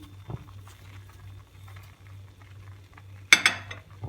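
Sugar is tipped into a pan of roasted chickpea flour for leblebi halva: soft scraping and faint clinks first, then a short, loud rushing pour near the end, with no voices.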